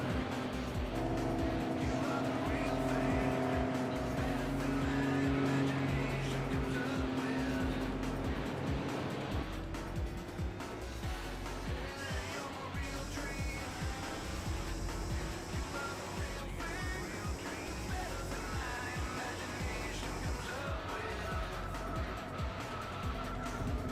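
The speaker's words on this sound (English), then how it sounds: "Car sounds a little bit quiet too," Car engine drone and driving noise from Gran Turismo 4 with the Spec II mod, a steady engine tone with shifting pitch and some tire noise, fairly quiet under continuous game audio.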